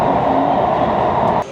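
A metro train rides through a futuristic Chinese city, its steady rumble and rolling hum loud and close inside the carriage, ending with a brief drop in level.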